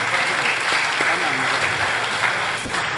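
An audience at a discussion event applauds the two speakers with dense, continuous clapping that stays loud and even for the whole stretch, without pausing.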